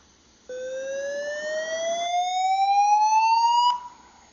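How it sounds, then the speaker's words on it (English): A single pure electronic tone, a sonified graph curve, glides steadily upward in pitch for about three seconds, then cuts off, clear and alone against quiet background hiss. "the first thing I always do in audio trace is to listen to the whole curve"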